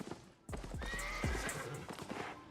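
A horse in the video game Albion Online gives a sharp, close whinny over quick clip-clopping hooves, loud and clear with only a little background.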